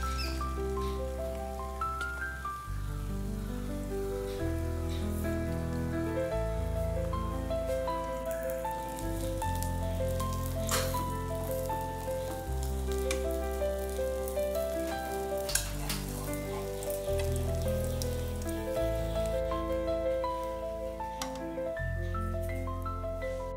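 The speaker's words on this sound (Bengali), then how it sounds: "সর্ষের তেল, তেল গরম হয়ে গেছে, এবার দিয়ে দিচ্ছি ডিম।" An egg fries in hot mustard oil in a pan with a continuous, even sizzle and crackle. Steady tonal music plays alongside throughout.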